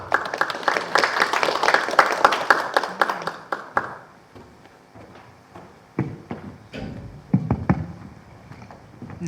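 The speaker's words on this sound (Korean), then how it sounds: "강사님을 큰 박수로 맞이해 주시기 바랍니다." Loud applause from an audience at a civic training session greets a lecturer on citizen participation budgeting, a dense burst of clapping for about four seconds that breaks into scattered claps and settles down.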